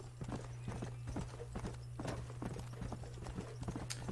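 A horse's hooves clip-clopping at a quick, steady gait in the western game Red Dead Redemption, with an occasional snort, fairly close but quiet, with no talking.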